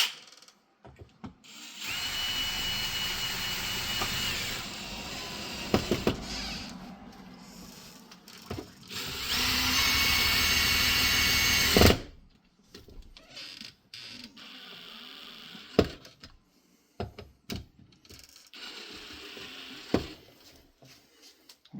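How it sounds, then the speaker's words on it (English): A power drill runs in several bursts, a steady whine lasting a few seconds each time, separated by clatter and handling noises. "Make sure you don't get your beard caught in the drill."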